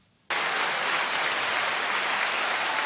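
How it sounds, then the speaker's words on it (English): Dense, steady applause from a crowd erupts after a brief quiet moment and holds at an even level for a few seconds. "give yourself a round of applause"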